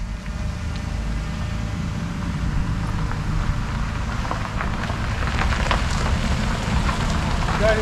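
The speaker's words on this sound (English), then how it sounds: "We knew it was going to be rainy today." Steady rain falls throughout an outdoor music video shoot, a dense, even patter with scattered heavier drops on nearby surfaces, continuous and fairly loud with no voices.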